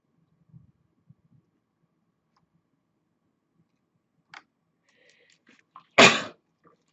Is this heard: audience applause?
no